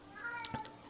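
A pet cat meows once, fairly close and soft, a brief high cry with a quieter follow-up, heard over a faint steady hum in a quiet room.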